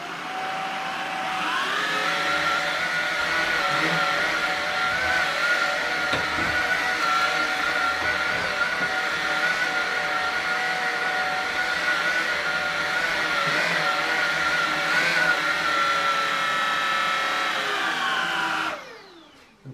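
A Shark Anti Hair Wrap cordless stick vacuum whirs at a steady pitch, loud and close, holding a constant motor whine for most of the stretch before abruptly cutting off near the end.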